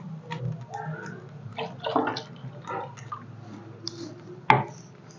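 Water pouring into a pot of frying rasam masala in splashy bursts, followed by a sharp metallic clank near the end.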